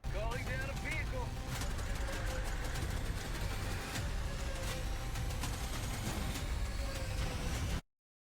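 Vehicle engine rumbling in the video game Helldivers 2, a steady low drone with scattered clatter running throughout before cutting off abruptly near the end.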